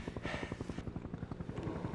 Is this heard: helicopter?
yes